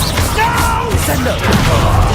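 Descendo slam spell cast in Hogwarts Legacy during a hard-difficulty fight, a dull impact buried in a dense, continuous wash of combat effects and game noise.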